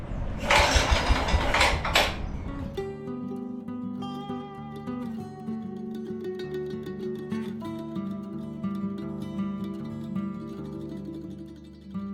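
An old Wisconsin engine driving a Leland alternator generator is rope-started: a couple of seconds of rough, loud pulling and cranking bursts, then the engine catches and settles into a steady, droning run close by.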